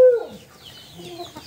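A rooster, just beak-trimmed, lets out one short loud cluck up close, followed by faint scratchy noises and quiet trailing calls.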